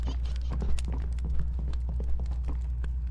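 Footsteps in the horror game Poppy Playtime Chapter 3, a steady run of thudding steps at an even pace over a low droning background, moderately close with no talk over them.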